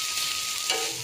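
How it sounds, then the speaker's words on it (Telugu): Onions frying hard in a hot pan, a steady close broadband sizzle with a brief surge partway through, no voices. "ఉల్లిపాయలు అయితే బాగా వేగాయండి"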